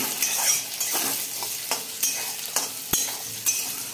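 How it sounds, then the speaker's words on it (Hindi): Curry leaves and mustard seeds shallow frying over a slow flame, a steady close sizzle broken by repeated scraping stirs and a sharp utensil tap near the end, with no voices. "अब इसको शैलो फ्राई कर रहे हैं"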